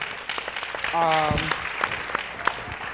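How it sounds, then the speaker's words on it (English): An audience at an education summit applauds in scattered, moderate clapping, with a voice speaking partway through and a few sharp individual claps standing out near the end. "Give them a round of applause."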